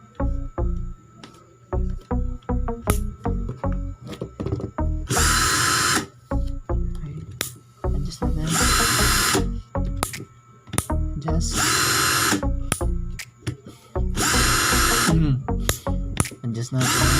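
A J.C. Kawasaki 18V cordless impact drill, model 2212C, whirs in repeated bursts of varying length, with short clicks and handling noises between the runs.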